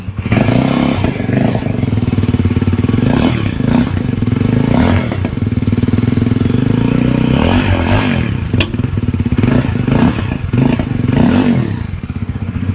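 A 2025 Yezdi Roadster motorcycle's exhaust note, a steady loud mid-low engine drone with a few blips and revs over roughly thirteen seconds, heard up close with no talking.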